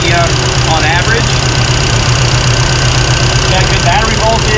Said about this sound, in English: We're idling at about 950 RPM on average.